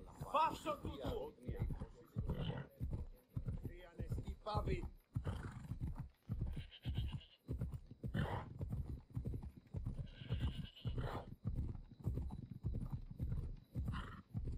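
Horse hooves clip-clopping in Assassin's Creed Odyssey, a steady galloping rhythm with occasional whinnies, heard alongside someone talking over the gameplay.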